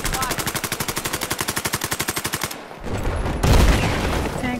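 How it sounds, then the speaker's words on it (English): Enemy soldiers fire in the video game Battlefield 4, opening with a long rapid machine-gun burst of evenly spaced shots. It cuts to a brief lull, then heavier, louder blasts and rumbling battle noise. "Enemy soldiers fire."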